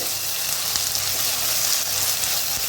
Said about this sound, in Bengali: এবার আমি এর মধ্যে অ্যাড করব 2 চামচ জিঞ্জার গার্লিক পেস্ট দিয়ে একটু হালকা করে ফ্রাই